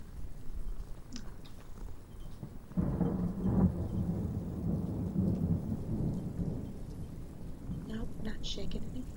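Steady rain with a low rumble of thunder rolling in partway through, soft and muffled under a quiet close-up ambience, with faint taps and rustles.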